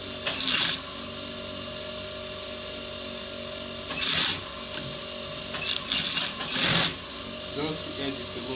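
A sewing machine stitches the edge of a trouser pocket bag in several short runs, with a steady mechanical hum beneath and brief louder bursts between pauses.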